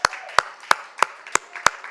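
A church congregation claps in unison, six sharp, evenly spaced claps ringing through a reverberant hall under a faint wash of crowd noise.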